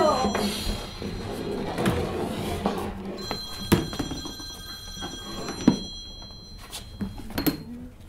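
A telephone bell rings in repeated bursts in a French stage comedy, fairly loud and close, mixed with thuds and knocks and brief voices in between.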